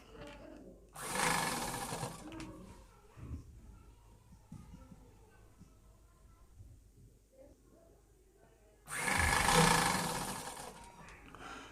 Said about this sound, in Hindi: इसमें हम सिलाई को कच्ची करेंगे।